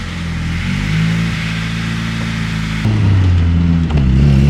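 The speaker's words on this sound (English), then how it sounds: "I have to speak up a little bit because I do have a loud exhaust." Car with a loud aftermarket exhaust and a short shifter driving on the road, a steady close engine drone that lifts in pitch as it accelerates, with a louder, rougher surge partway through.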